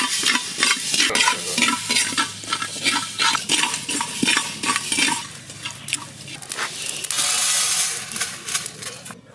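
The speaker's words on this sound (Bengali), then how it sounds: "শুকনো ধনে জিরে ভেজে নেব।" Dry coriander and cumin seeds are roasted in a pan for a Bengali mixed vegetable dish, with busy, rhythmic scraping and rattling of the seeds under a spatula and a light sizzle, close and continuous.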